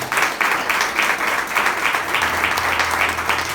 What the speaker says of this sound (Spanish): Denle un fuerte aplauso al Señor en esta hora